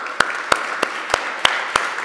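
An audience at an informal conference claps for the gastrobar staff, sounding as six sharp, evenly spaced claps in a slow, regular beat over a soft murmur of room noise.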